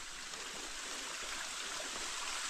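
Water from a cascading spring fountain at the medicinal springs of Noceda, León, rushes and splashes in a steady, dense stream with no pauses, fairly close and alone without voices.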